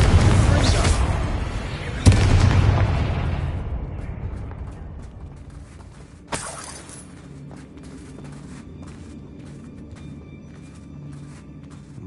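A Confringo spell explosion in Hogwarts Legacy: a loud, close blast with a rumbling tail that fades over several seconds, then a second sharper crack follows and dies away into quiet ambience.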